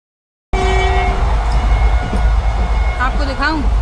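A steady rumble and rattle inside a moving passenger train on a hot day, loud and continuous, with a horn or whistle-like tones rising near the end.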